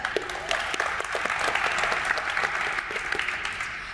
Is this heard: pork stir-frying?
no